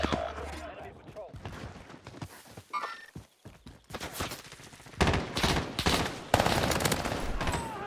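Bursts of automatic gunfire in Call of Duty Warzone at Fortune's Keep, scattered early then heavy and sustained in the second half, with a player talking over the shooting.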